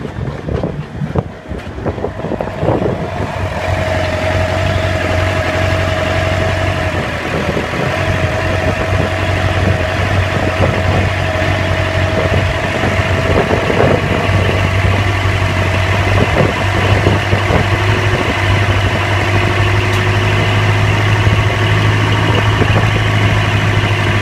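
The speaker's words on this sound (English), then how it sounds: "So just started the engine, started right up, sounded good." A sailboat's auxiliary engine cranks and catches within the first few seconds, then settles into a steady, loud idle with a constant low drone and a faint whine above it, all under heavy wind noise.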